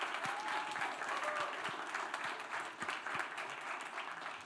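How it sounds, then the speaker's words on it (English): An audience at a school board meeting claps for students, a steady, moderately distant round of applause with a few sharper individual claps, quiet overall, plus a faint whistle-like tone early on. "Let's give them another round of applause."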